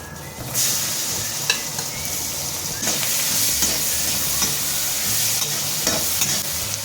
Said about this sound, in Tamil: இது கொஞ்சம் லைட்டாக அப்படியே வதங்கட்டும், லைட்டாக ஸ்மெல் வரும்.